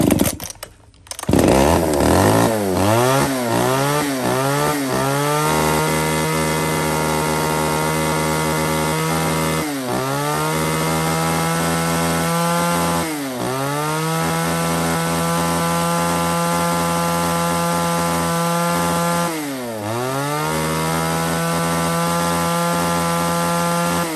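A small chainsaw with a 30 cm bar and mini chain cuts through wood, its engine revving up in quick bursts, then holding a steady loud whine that dips and recovers several times under load, with no voices.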